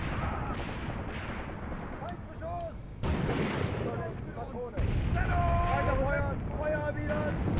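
Assault guns firing in the Graviteam Tactics World War II battle game, heavy booming blasts at several sudden onsets over rumbling battlefield noise, with a voice talking throughout.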